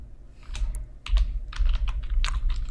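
Close, clear keystrokes on a computer keyboard as a name is typed into a search, coming in quick irregular bursts of clicks with no talking.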